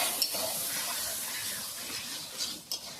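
Salt and chili powder are stirred and sautéed in a hot pan, giving a steady sizzling hiss with soft scraping strokes throughout, close and fairly quiet, with no voices.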